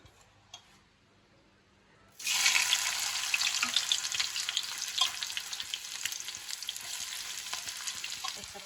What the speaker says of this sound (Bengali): তেল গরম হয়ে গেছে, এতে দিয়ে দিচ্ছি তেজপাতা। এবারে দিয়ে দিচ্ছি পেঁয়াজ।